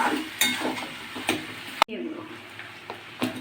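Katla fish head being fried and stirred with spices such as coriander powder in a pan, with a sizzle under several light scraping stirs and a sharp utensil clack partway through.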